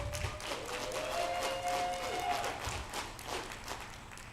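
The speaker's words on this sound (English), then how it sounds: "Give them a round of applause." An awards-show audience at a Pride gala gives a round of applause, a faint continuous patter of many hands with a voice talking over it.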